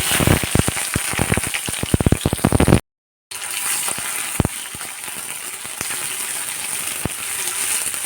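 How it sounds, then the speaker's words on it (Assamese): Onion sizzles and crackles steadily in hot oil, with sharp pops and clatters early on, a brief gap of silence, then continued frying hiss. "ডাঙৰ চাইজৰ এটা পিঁয়াজ কাটি লৈ এয়া মই এতিয়া ভাজি আছোঁ ধুনীয়াকৈ"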